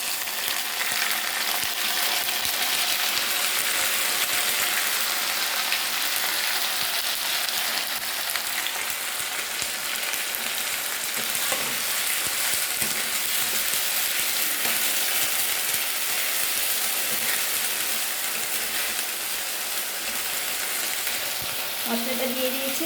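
Ginger, onion, garlic and cumin paste fries with potatoes in a pan, giving a steady, dense sizzle that runs throughout with occasional stirring scrapes, close and loud.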